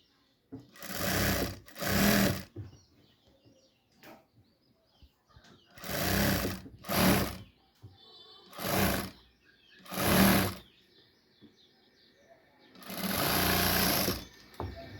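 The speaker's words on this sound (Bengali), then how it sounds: "তো আপনারা দেখুন আমি হাতাটা কিভাবে সেলাই করি।" Sewing machine stitching a kameez sleeve, heard in several short loud bursts of whirring with pauses between them, while someone talks quietly in the gaps.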